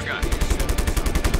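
Turret guns firing in the video game Just Cause, a rapid, loud, close burst of repeated shots in a tight, steady rhythm across the whole moment.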